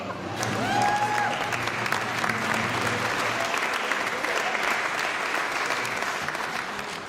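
An audience welcoming a speaker to the stage breaks into sustained, full applause, a dense wash of clapping throughout, with faint crowd voices and cheering mixed underneath.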